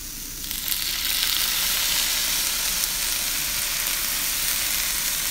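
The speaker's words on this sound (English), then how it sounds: "Got a sizzle." Food sizzles loudly in a hot pan, a bright steady crackling hiss that swells up after a quiet start and keeps going.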